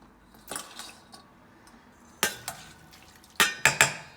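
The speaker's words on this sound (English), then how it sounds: "So just shake off all of that residual water there." Several sharp splashy clatters of water being shaken from a strainer of cooked tapioca pearls, in short bursts with quiet gaps, close by.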